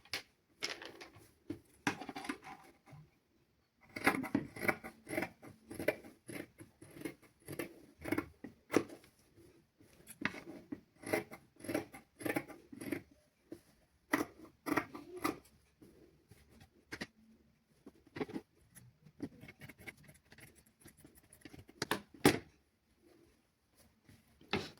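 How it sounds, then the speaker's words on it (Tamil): Scissors snip through fabric while cutting a pattern for children's clothes, making a faint, close series of irregular crisp cuts and rustles in a quiet room. "நாங்கள் இந்த கட்டிங்கை கட் பண்ணி போட்டு பார்க்கலாம்"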